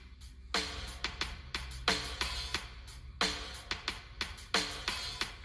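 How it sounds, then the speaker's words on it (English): A drum-machine beat from the Caustic mobile app plays alone. A deep kick and a crisp snare on beats 2 and 4 land on a regular rhythm, with quick hi-hat ticks filling the gaps. "I just put the snare on 2 and 4 and some hi-hats in there"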